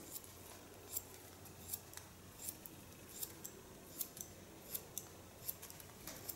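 Scissors snip steadily through hair while a pixie bob is cut along the short neckline, each crisp metallic snip coming about every half second, close and fairly quiet with no talk over it.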